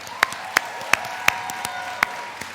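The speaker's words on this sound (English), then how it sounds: "Let's have another round of applause for Capita Productions" At a United Way campaign closing event, a handful of separate, sharp hand claps sound at loose, uneven intervals over a low room hum, sparse rather than a full ovation.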